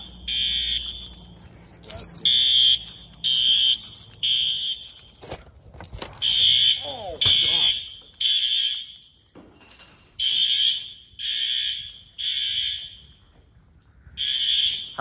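Notifier NFS2-3030 fire alarm system with L-series notification appliances being tested in a brand new middle school, sounding repeated synchronized loud horn blasts in a steady temporal pattern, with people talking between and under the bursts.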